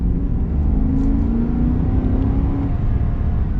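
2024 Chevy Silverado HD with the 6.6-litre gas V8 and 10-speed automatic accelerating, a deep, steady engine drone heard from inside the cab, loud and continuous with no talk.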